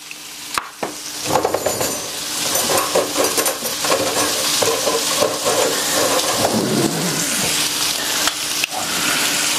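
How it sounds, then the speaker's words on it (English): A pat of butter melting and sizzling in a hot pan beside a seared steak, a loud steady frying hiss with crackling spatter and occasional scraping stirs, close up and without speech. "I'm going to throw this pat of butter in here and let it melt"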